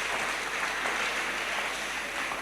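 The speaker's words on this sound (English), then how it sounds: "can you give yourself a round of applause and celebrate yourself?" Graduates at a graduation ceremony clapping together, a dense, even round of applause from a crowd that stays steady throughout with no voices over it.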